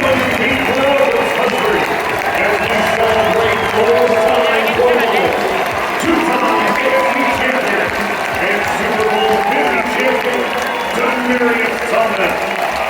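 Roaring stadium crowd at a Broncos–Chiefs NFL game cheering and applauding in a dense, sustained wash, with a stadium announcer's voice audible over the noise.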